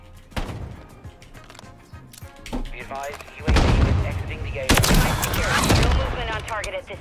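Sniper rifle shots ring out in a video game amid busy gunfire, with sharp cracks and two heavy bursts of loud firing in the second half, over a mix of other game noise and voices.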